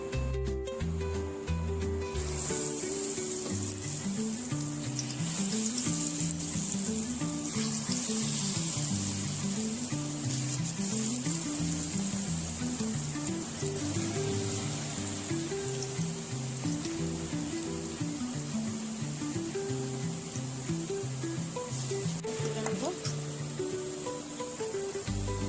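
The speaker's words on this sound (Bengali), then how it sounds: "কড়াই গরম হয়ে এসছে, এবার আমি এতে সরষের তেল দিয়ে দেব।" Mustard oil hisses and sizzles in a hot kadai, a steady bright frying noise lasting throughout, with soft background music underneath and no talking.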